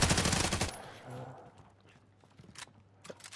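A Stoner machine gun in Warzone fires a loud, rapid automatic burst for the first part, then stops, leaving faint mechanical clicks and scattered shots.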